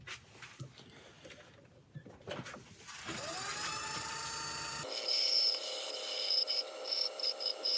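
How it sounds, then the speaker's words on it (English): Light sanding of an oak burl piece spinning on a wood lathe: a steady whirring hum with a soft abrasive hiss that brightens midway, broken by a few short knocks early on, fairly close and with no talk. "now I'm just going to put a light sanding over this"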